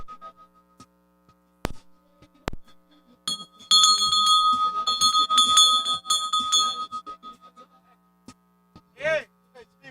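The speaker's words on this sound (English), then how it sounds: "Bell lap, 1 to go, 1 to go." A bell rings repeatedly at a bicycle criterium race to mark the final lap, a dense burst of bright metallic clangs after a few isolated strikes, with steady hum beneath and a short voice near the end.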